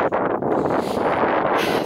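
Steady, rumbling wind buffeting the microphone on a walk at Westbury-sub-Mendip, a continuous low roar with gusty fluctuations throughout.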